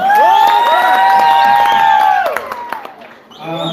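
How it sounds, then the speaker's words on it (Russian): A packed concert hall crowd in Moscow cheers and claps, loud sustained shouts and whoops over rapid applause that tapers off, then more voices rise again at the end. "Аплодисменты можно ему попросить всем залом"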